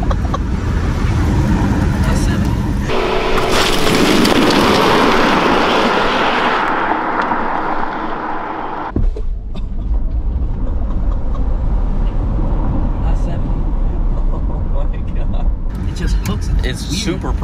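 A 2021 Tesla Model S Plaid launches from a standstill, heard from inside the cabin: a loud rising electric whine and surge of road and wind roar after a few seconds of idle, then a steady loud cabin rumble as people talk over it.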